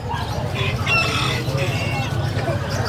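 Several roosters crow one after another at a busy pets and livestock market in Bocaue, with clucking fowl and constant crowd chatter and voices underneath.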